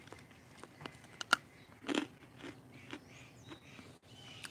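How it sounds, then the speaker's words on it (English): Crunchy freeze-dried banana slices being bitten and chewed close to the mouth, a few sharp crisp crunches followed by quieter scattered chewing in a quiet room. "Except for being crunchy, that tastes like a fresh banana."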